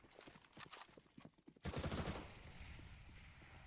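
Counter-Strike gunfire during a competitive esports match: scattered rapid shots first, then a loud, dense automatic burst that dies into a lingering rumble, close and sharp.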